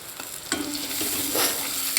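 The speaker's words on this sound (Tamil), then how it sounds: "இஞ்சி போட்டு நல்லா வதக்கிக்கலாம்." Chopped onion, green chilli, garlic and crushed ginger sautéing in a pan, a loud close sizzle with a few scraping stirs of a spoon.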